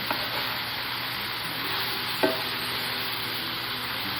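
Onions sizzle steadily in a hot pan for an Italian goulash, a constant bright frying hiss with a few soft clicks of stirring and one sharp tap partway through, heard close and alone.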